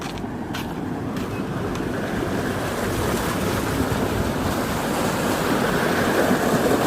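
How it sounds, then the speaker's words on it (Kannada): Water falls and splashes into a village stream in a constant, full rushing roar that swells slightly louder toward the end, with no voices. "ಇಲ್ಲಿ ನೋಡ್ರಿ ಇಲ್ಲಿ ನೀರು ಹೆಂಗೆ ಬೀಳತ್ತಾವ ತೋರಿಸ್ತೀನಿ ನಿಮಗೆ"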